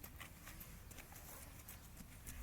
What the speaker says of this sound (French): Vous voyez, là le cheval avance au pas